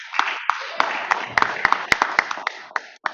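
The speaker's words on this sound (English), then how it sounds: "Give yourselves a round of applause." Audience at a panel discussion claps, with sharp individual hand claps standing out over a steady patter of smaller applause for about three seconds, close and moderately loud.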